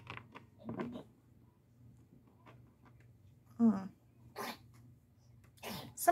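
A single sharp sneeze bursts out in a quiet room over a low steady hum, followed by a few faint rustles and brief vocal sounds.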